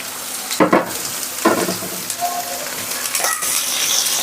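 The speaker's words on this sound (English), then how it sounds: "mix it till the time the onion turns lightly gold" Chopped onions, green chilies and curry leaves fry in a pan, giving a steady close sizzle broken by several short bursts of stirring.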